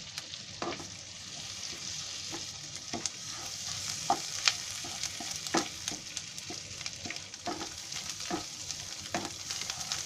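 Garam masala and ginger-garlic paste fry in melted butter for a matar mushroom dish, with a soft, steady sizzle. Repeated light scrapes and taps from stirring come through close by, without any talking.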